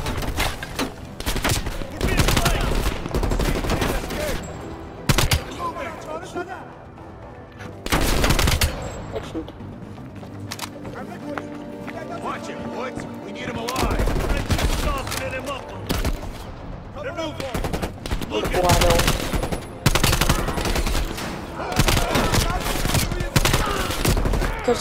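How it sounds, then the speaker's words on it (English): Heavy gunfire in the Call of Duty Cold War video game: dense bursts of automatic fire and single shots, loud and near, broken by short quieter gaps. "Stop shooting at me."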